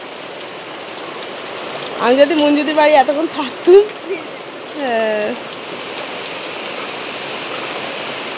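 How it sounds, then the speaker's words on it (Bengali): Heavy rain pours in a steady, dense hiss throughout, with people talking briefly over it in the middle. "বিশাল জোরে বৃষ্টি পড়ছে।"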